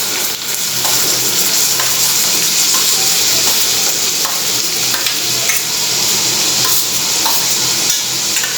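Garlic and onion frying in a pan, a loud, dense, continuous sizzle with stirring scrapes, close and steady throughout, with no voices.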